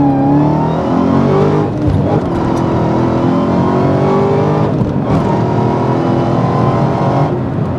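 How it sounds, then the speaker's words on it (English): Dodge Challenger Hellcat with a manual gearbox, its supercharged engine revving loud and close as it accelerates through gears, pitch climbing and dropping with each shift and a whine layered over the exhaust roar. "I love the sound of this car, the engine sound, the whine, how it all mixes together."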